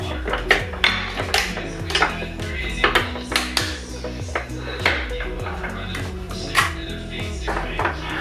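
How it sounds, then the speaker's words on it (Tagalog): A heavy kawali cooking pan is handled in a home kitchen, giving repeated metallic clanks and scrapes with ringing tones, several sharp knocks spread irregularly over the stretch amid faint background sounds. "ang bigat naman po ng kawali."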